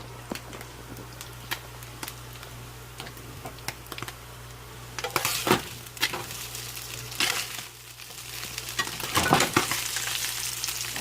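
Thai fish cakes fry in a pan, a soft continuous sizzle with scattered sharp ticks and scrapes as they are stirred and turned, busier and louder toward the end, with a low steady hum beneath.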